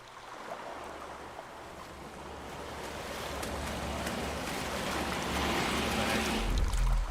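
Water and waves on an island in the Call of Cthulhu game, a steady wash of surf and moving water that slowly swells louder, with no talk over it.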